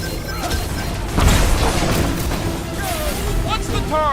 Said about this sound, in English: Incoming explosion!